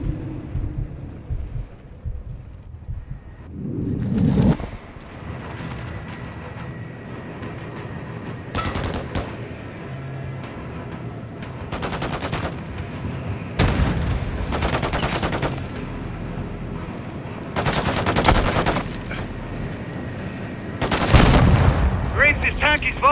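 Call of Duty Modern Warfare 2 combat against a tank, with heavy booming explosions and bursts of gunfire recurring every few seconds, loud and close, under ongoing in-game chatter and talk.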